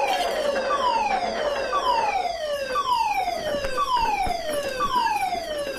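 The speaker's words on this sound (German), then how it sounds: "Diese Sirene bedeutet, ein Flugzeug ist in akuter Gefahr." A loud wailing airport fire station alarm siren at Frankfurt Airport sweeps downward over and over in a steady repeating cycle, continuous and close.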